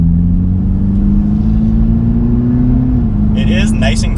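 A 2021 Toyota GR Supra with the 2.0-litre engine accelerating in normal automatic mode, a loud, steady engine drone that rises gradually in pitch from inside the cabin, with a brief burst of higher noise near the end.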